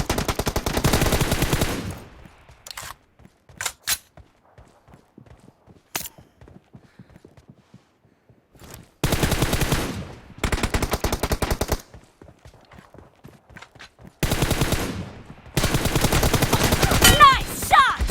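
Automatic gunfire from a team deathmatch video game shooter rattles in loud rapid bursts, with quiet gaps and a few isolated shots between them.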